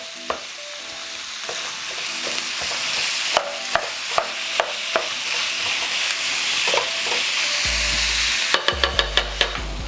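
Ground meat for spaghetti fries with a steady, loud sizzle in a non-stick pan, broken by repeated sharp scrapes and taps of a utensil stirring it, with a rapid burst of clicking taps near the end.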